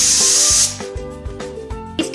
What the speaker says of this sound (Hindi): प्रेशर कुकर को तेज आंच पर रखें और 6 सीटी आने दें।